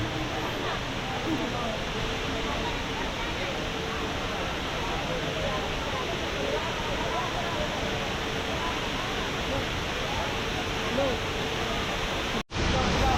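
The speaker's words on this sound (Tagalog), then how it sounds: "ang waterfalls na nanggagaling pa sa 7 barangay ng Antipolo City" Water pours steadily at Hinulugang Taktak waterfall in Antipolo, a broad, constant rushing roar that stays even throughout before a brief dropout near the end.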